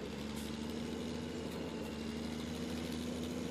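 A tractor in Farming Simulator 17 works a narrow field baling straw into large bales, its engine a steady, faint, droning hum that stays even throughout with no other sounds.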